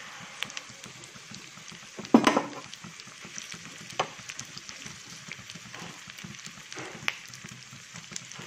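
Mustard seeds, dals and onions fry in hot oil for a tempering, giving a soft, steady sizzle with scattered crackles and one louder spatter burst near the start.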